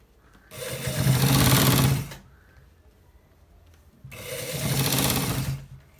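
A sewing machine runs two loud, even stitching bursts of about a second and a half each along the end part of a designer shirt, with a quiet pause between.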